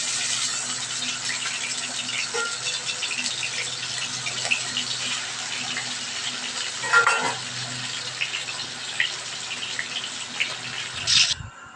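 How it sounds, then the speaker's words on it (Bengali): Steady hiss of oil sizzling in a hot kadhai as two fish heads fry, continuous throughout, with a few clinks and bumps of utensils near the end. "মাছের মাথা দুটো ভেজে নিই"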